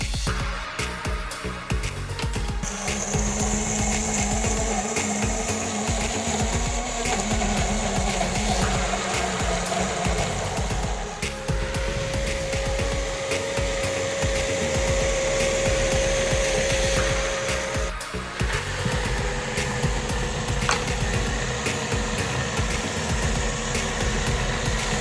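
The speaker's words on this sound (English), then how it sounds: "the 300-watt motor blends your smoothie to perfection." A 300-watt portable blender whirs steadily as it blends a smoothie, a continuous motor hum with slight shifts in pitch running for about twenty-five seconds, nearby and without talk.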